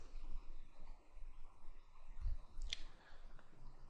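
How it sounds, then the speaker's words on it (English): Computer mouse clicks while navigating a web page, a couple of small sharp clicks over a faint steady background hum. "you can just click on campaigns and then click on view campaign list."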